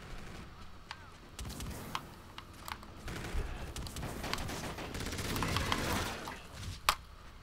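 The N4 rifle fires in Call of Duty: Infinite Warfare gameplay, with sharp single shots and short bursts spaced a second or so apart over a low din of game noise. A louder crack comes near the end.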